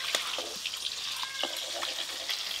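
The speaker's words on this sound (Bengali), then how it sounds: "মাছের তেলেই মাছ ভাজা হচ্ছে" Fish pieces from a large silver carp frying in the fat released from the fish itself, giving a soft, steady sizzle with light spatter crackles in a home pan, without voices.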